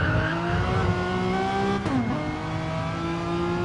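A Renault Megane Trophy race car drones loudly at steady high revs in a racing video game at Spa, with a brief gear-change dip midway before the engine note climbs again.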